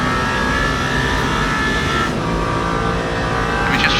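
A race car engine from the Le Mans Ultimate endurance racing game howls at high revs, with a steady, loud drone and a brief dip in pitch as it upshifts partway through.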